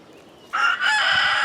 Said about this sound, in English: Cue the chicken.